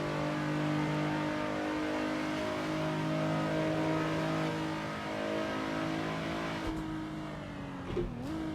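Nissan GT-R race car engine in the Assetto Corsa racing game, droning steadily and loudly with sustained revving harmonics, the pitch dipping and shifting near the end as the car lifts off and gears change, with no talking.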